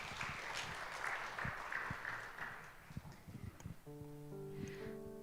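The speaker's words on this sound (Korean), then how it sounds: "박수로 환영해 주시면 감사하겠습니다" Congregation at a Sunday youth worship service applauds to welcome a speaker, moderate scattered clapping that thins out after a few seconds as sustained keyboard tones enter.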